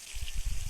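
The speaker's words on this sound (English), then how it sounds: "Now water coming in" Water pouring into a container in the video game The Long Drive, a short low gurgling splash with soft rhythmic pulses under a hissy background.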